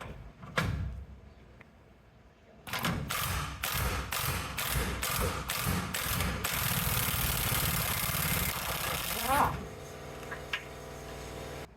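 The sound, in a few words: ratcheting socket loosening a bumper bolt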